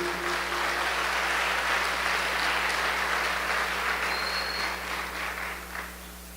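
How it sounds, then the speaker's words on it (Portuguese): Applause from a church congregation fills the space, a dense, steady patter of many hands that holds loud and then thins slightly toward the end, with a faint tone running underneath. "Pode aplaudir a Jesus."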